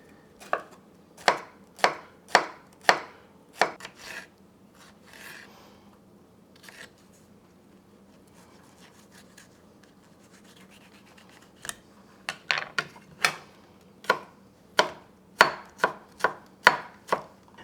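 Knife chopping cucumber on a cutting board in quick rhythmic bursts of crisp close taps, a run of about eight, a quiet pause with faint scraping, then another fast series of chops.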